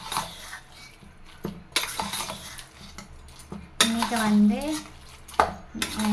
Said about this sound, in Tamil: இதை வந்து நல்லா மிக்ஸ் பண்ணிக்கலாம்.